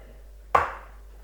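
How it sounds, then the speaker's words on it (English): A single sharp tap of an egg cracked against the edge of a mixing bowl while baking a jam and coconut sponge, one crisp brief knock in an otherwise quiet room. "we're going to crack our eggs into our mixing bowl. So to do that, just give them a tap on the side, pull the shells apart"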